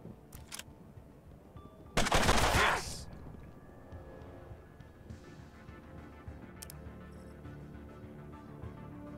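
Gunfire from the video game Mutant Year Zero: Road to Eden, Seed of Evil DLC, arriving as a single loud, dense burst about half a second long, then fading into quiet game ambience with a few faint clicks.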